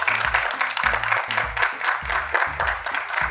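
Applause at the launch of season 2 of a TV show, with clapping over a rhythmic musical beat that pulses steadily throughout.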